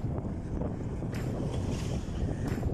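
Strong wind off Laguna Bay on the Jala-jala Loop bike ride buffets the microphone in a continuous low roar, with gusting swells and a faint hiss above.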